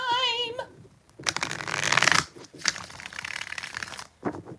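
Tarot cards riffled and shuffled in quick rustling bursts, several distinct shuffles in a row, close and fairly loud, with a brief pause between bursts.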